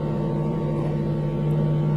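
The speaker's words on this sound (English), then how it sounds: "let's rev the engine up to 2000" A 2005 Toyota Tundra engine is held at about 2000 RPM with the headlights on, giving a steady, loud, droning hum with a strong low tone throughout.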